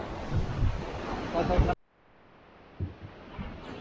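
Foamy sea waves surge into a narrow rocky gully cut through basalt at Guhagar beach, a loud rushing wash that drops away abruptly, then smaller surges return faintly.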